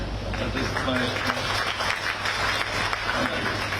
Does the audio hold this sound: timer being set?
no